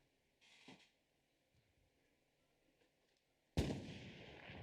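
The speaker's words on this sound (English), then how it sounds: "We hear the artillery coming out from both teams." Artillery fire in Hell Let Loose: a muffled distant boom early on, a stretch of near-silence, then a loud, close blast that rolls into a sustained rumble.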